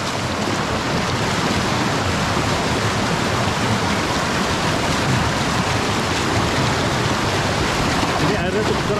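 Strong, fast river water rushes in a loud, dense, continuous roar, close by and unvarying, with a hint of wind buffeting.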